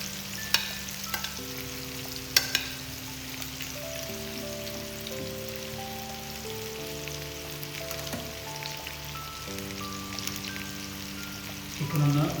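Chicken pieces fry in a pan for chicken mandi, a steady crackling sizzle with occasional sharper pops, heard under a layer of background music.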